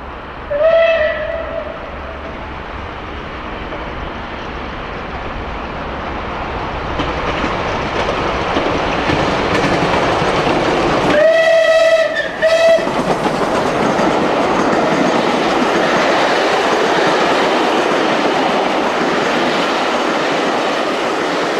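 Steam locomotive Clan Line rushes south through Eastleigh Station, a brief whistle toot at the start and a louder double whistle midway, with a heavy, building rumble and clatter of carriages close by.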